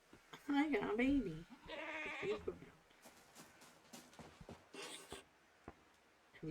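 A baby goat in the video game REKA bleats in short wavering cries, close and clear, heard early in the clip against gentle game background sounds, with some clicking and scratchy noises later.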